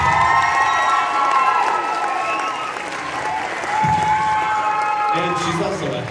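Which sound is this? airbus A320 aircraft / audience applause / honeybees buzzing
audience applause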